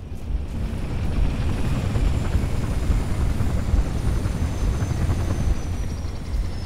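A Falcon helicopter arriving in Halo Reach, its rotor thumping loud and close in a steady, continuous beat over a heavy low engine rumble.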